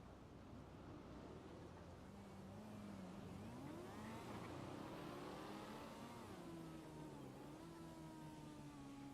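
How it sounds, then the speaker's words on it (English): A car in a GTA roleplay game pulls away, its engine revving up and rising in pitch through the gears, then settling into a steady drone as it drives off, moderately close. "He drove off."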